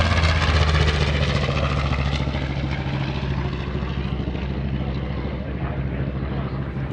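A TBM warbird propeller plane passing at an airshow, a loud, steady droning engine roar with a low harmonic hum that holds for several seconds and slowly fades as the aircraft moves away.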